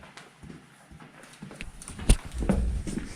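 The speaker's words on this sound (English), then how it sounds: "Rex is Rebecca's horse." Rex, an ex-racehorse, shifting his hooves with a few scattered soft thuds that build into heavier, closer stamps and shuffles toward the end.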